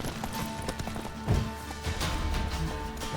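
Horse hooves clip-clopping at a gallop in The Witcher 3 video game, a steady rhythmic patter at moderate volume with a brief louder thud midway, no talk over it.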